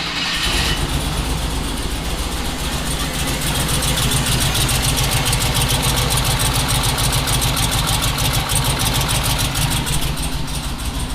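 Twin-turbo LS V8 starting up and settling into a loud, rhythmic idle with an even, pulsing beat that holds steady throughout, close by and with no voices.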